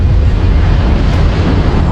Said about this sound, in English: the bomb exploded.